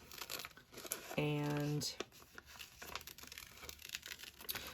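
Paper is cut out by hand for a junk journal page, giving close, papery crinkling and rustling with a short tonal scrape partway through, heard alone at low level.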